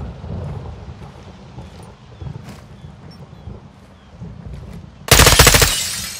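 Automatic gunfire from Call of Duty Modern Warfare 2 during a warehouse assault, a steady rattle of shots through most of the stretch, then a sudden loud, dense burst near the end.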